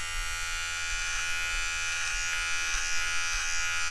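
A steady high electric buzz of a Vivitar nose hair trimmer runs throughout, with faint uneven crackles as it cuts, close and fairly loud.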